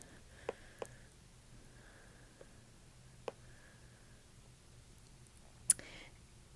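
Sparse, sharp clicks from a button on a digital drawing pen or tablet while adjusting brush flow in Adobe Fresco, a handful of quiet isolated taps spread over a near-silent background, with one louder click near the end.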